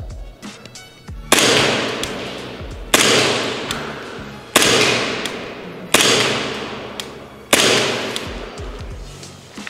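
An Elite Force 1911 airsoft pistol fires five shots in a slow, even series, each a sharp, loud crack with a fading ring before the next.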